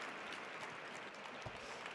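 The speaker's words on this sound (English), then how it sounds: "Please give a huge round of applause to Nemonte and Nkimo." Audience applause at a ChangeNOW climate event, honoring two guests as people rise to stand; fairly faint, steady dense clapping for about two seconds with no voices over it.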